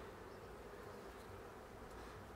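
Honeybees buzz in a soft, continuous drone during an inspection of hive frames, fairly faint and even, with no talking.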